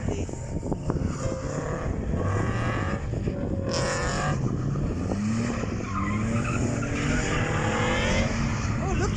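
A race car skids and squeals its tires on a raceway track, long sliding tire screeches over a loud continuous engine roar, heard from a distance across the track with no speech.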